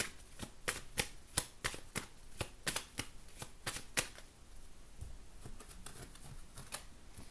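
Tarot cards shuffled by hand, a quick run of crisp riffling taps in an uneven rhythm, close and fairly quiet, thinning out toward the end with no voice over them.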